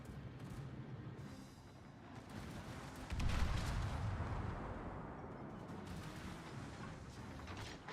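Warship guns fire in a World of Warships naval battle, heavy booming salvos with a loud burst around the middle over a constant rumbling battle din, no voices.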